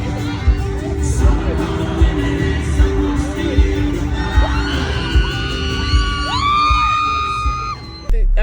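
A concert crowd at a show in Fiserv Forum, Milwaukee, screams loudly, with whoops and yells swelling into one sustained roar before it cuts off abruptly near the end.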